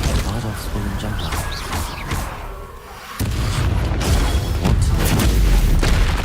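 A Confringo fire spell blasts during Hogwarts Legacy combat: after a brief lull, a loud booming burst bursts in, followed by ongoing crackling crashes and rumbles, with a voice speaking over parts of the din.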